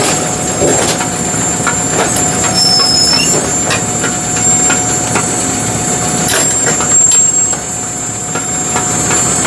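A Brunswick A2 bowling pinsetter runs steadily after being powered on, a loud continuous mechanical rumble and hum with scattered clanks and metallic squeals throughout.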